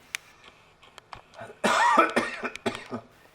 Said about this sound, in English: the cough just lingers